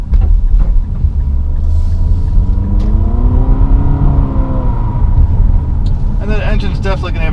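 The four-cylinder engine of a 2019 Infiniti QX50 runs as a loud, close, steady rumble, its pitch climbing through a rev midway before settling again.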